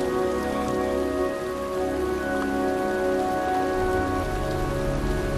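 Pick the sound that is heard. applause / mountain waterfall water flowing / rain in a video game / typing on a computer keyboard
rain in a video game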